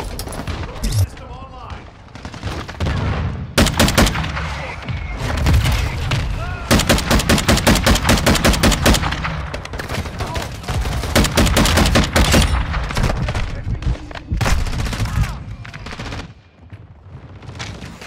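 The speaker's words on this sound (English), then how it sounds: "I was shooting at a wall, trying to shoot through the wall." Gunfire in a first-person shooter game as a player fires through a wall: repeated loud bursts of rapid automatic shots come in strings with short pauses, while someone talks over parts of the barrage.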